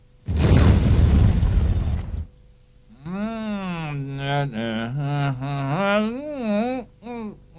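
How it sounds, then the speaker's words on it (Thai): A loud, close firework blast with a crackling roar lasting about two seconds, followed by a long quiet stretch of sustained, wavering voice-like tones. "ใครจุดพลุ่ะ"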